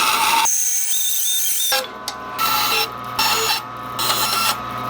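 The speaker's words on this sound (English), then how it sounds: "I'm going to use a bandsaw to do this" A bandsaw hums continuously while cutting a wooden chain link, its whine rising and falling in short repeated bursts as the blade works through the piece.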